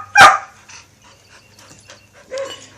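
A dog of about ten lets out one loud bark while playing in a yard, followed by softer whimpering and panting sounds and another short yelp near the end.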